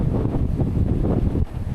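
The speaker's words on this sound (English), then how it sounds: "Ooh, it's windy." Wind on an outdoor trail buffets the microphone in a steady, deep roar that swells and dips slightly, with no voices.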